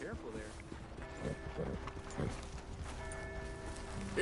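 A horse's hooves clip-clop in Red Dead Redemption 2, with a few soft uneven hoofbeats on the ground under faint background tones, and a voice speaking toward the end.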